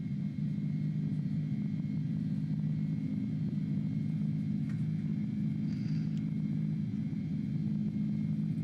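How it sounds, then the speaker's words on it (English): Airbus A310 jet engines in Microsoft Flight Simulator 2020 drone with a steady, even roar that sits loud and constant close by, with a faint higher tone riding above it and no talking. "Listen to these engines purr."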